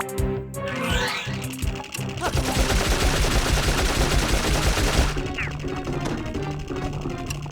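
Rapid automatic gunfire from a gat in the fantasy video game Dark Cloud, a dense loud burst sustained for several seconds over game sounds, with short shots around it.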